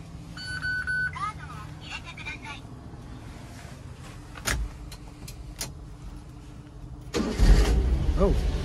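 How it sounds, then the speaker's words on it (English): A stock two-wheel-drive JDM car engine cranks and catches near the end, a loud burst of starter and engine noise after a stretch of quieter background sounds, with people talking. "Let's see how she cranks up."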